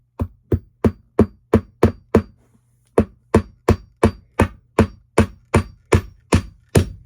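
A hammer drives nails into a wooden chair frame, a series of sharp, evenly spaced close strikes, about seven blows, a brief pause, then about eight more.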